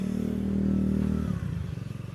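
A Chinese scooter engine, the Romet Victor, runs close by. It idles with a steady, smooth hum, then shifts into a lower, pulsing putter.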